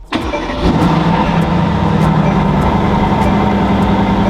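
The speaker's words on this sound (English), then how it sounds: "let's do a cold start" A Mercedes GT S engine cold start: it cranks and fires up, then settles into a loud, steady idle with a low rumble close by.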